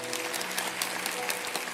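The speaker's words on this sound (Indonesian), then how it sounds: "Tepuk tangan bagi Tuhan kita." A church youth congregation claps steadily in dense, even applause for a short stretch, with no voices standing out.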